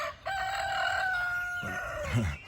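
A rooster crows loudly and close by, one long drawn-out call, followed by a short clucking sound.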